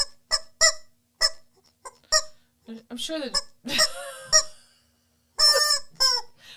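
Chickens cluck and honk in loud, sharp, repeated calls at close range, some arriving in quick bursts and others in longer squawking runs, with brief human talk in between.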